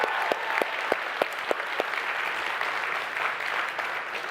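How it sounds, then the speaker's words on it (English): A TEDx audience applauds its speakers, a steady wash of many hands clapping at moderate level, with a few sharper single claps standing out early on and no voices above it. "why don't we give one more round of applause for everyone,"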